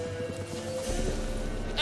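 A goat in The Witcher 3 gives a short bleat, with a faint hoof-like clatter and game ambience underneath.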